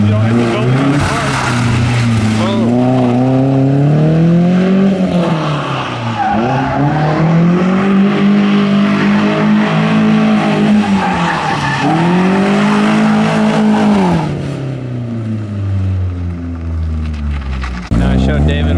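A car drifts near a shop, its tires squealing and skidding in long loud sweeps over the revving engine, with people talking now and then.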